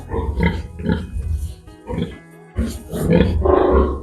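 A sow grunts and squeals loudly at her piglets in repeated harsh bursts during farrowing, close by, rising into a longer agitated squeal at the end.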